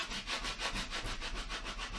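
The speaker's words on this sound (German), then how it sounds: "Und jetzt nehme ich wieder den Rakel und drücke ganz fest über das Motiv," A squeegee is pressed hard over a vinyl wall decal on a painted wall, giving quick, even rubbing strokes in a steady rhythm, close and fairly quiet.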